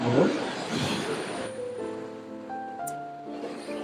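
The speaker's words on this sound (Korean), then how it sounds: "저기 멀리에서는 파도 바람이 많이 부나 봅니다. 파도가 그저 막 칩니다" Ocean waves break and wash on a small beach on a breezy day, a loud rushing surge that fades into softer, steady background wash, with faint tonal sounds afterward.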